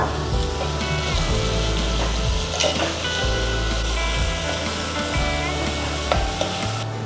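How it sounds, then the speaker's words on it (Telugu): Onions sizzle and fry in a pan, a steady crackling hiss close up, broken by a few scraping stirs and clinks of a utensil. "ఉల్లిపాయలు పచ్చిదనం పొయ్యి బాగా వేగే వరకు వేయించుకోవాలి, ఎర్రగా కావాలి."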